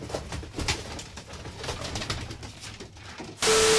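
Soft coos from Kaldum pigeons in a pigeon loft repeat through the clip, close by, then a sudden loud burst of noise cuts in at the end.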